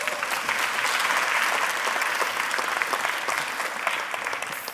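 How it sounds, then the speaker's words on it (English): An audience welcomes a speaker with warm, sustained applause, an even wash of many hands clapping at moderate level with no talk over it, easing slightly toward the end. "So big round of applause."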